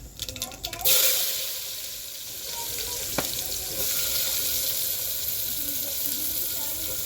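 Onions drop into hot oil with cumin and mustard seeds for tomato curry, bursting into a loud steady sizzle that continues with a brief stir, after a moment of speech at the start.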